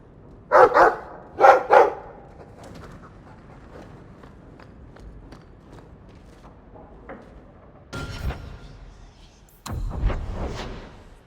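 Dog barking in the Dragon Age 2 video game, a few sharp barks near the start in two quick bursts, followed by quieter game ambience and footsteps, then two louder muffled thumps or bursts later on.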